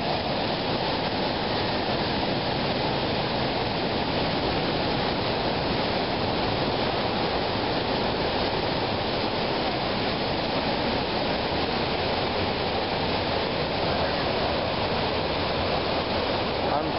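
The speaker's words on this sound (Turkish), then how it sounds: "Antalya'dan şelale." A steady, roaring wash of falling water from a waterfall in Antalya, Turkey fills the whole stretch, loud and unbroken, as if heard close up.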